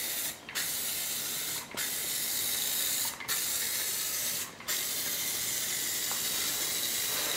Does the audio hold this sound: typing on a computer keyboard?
no